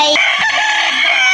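A chicken gives a loud, close, drawn-out squawking cluck, harsh and continuous for about a second.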